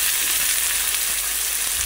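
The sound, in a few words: frying leafy greens with ginger in a pan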